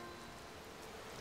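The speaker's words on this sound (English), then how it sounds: "Oh, and it's raining." Rain in Zelda: Tears of the Kingdom falls as a soft, even patter of drops, faint and continuous throughout.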